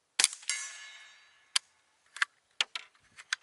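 A stock Remington 10/22 rifle firing CCI Quiet .22 ammunition gives a sharp, subdued crack followed by several lighter clicks and clacks of the action, all close and fairly quiet.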